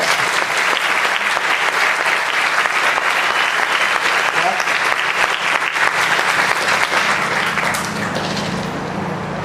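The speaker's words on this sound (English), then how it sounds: "Let's give those individuals a round of applause." Loud, dense applause from a luncheon audience at a two-year anniversary celebration, sustained steadily for about nine seconds before easing slightly near the end, with voices mixed in.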